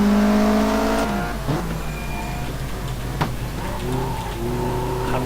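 A race car engine in the racing video game Race 07 revs loudly and steadily, its pitch sliding down and rising again as the car drifts, with a brief sharp click partway through.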